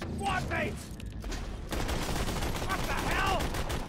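Gunfire from a corrosive elemental weapon in the video game Borderlands: The Pre-Sequel, a dense continuous fusillade of loud shots filling the whole stretch, mixed with other game sounds and brief voice-like tones.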